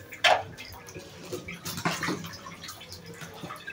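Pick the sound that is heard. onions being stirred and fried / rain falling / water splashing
water splashing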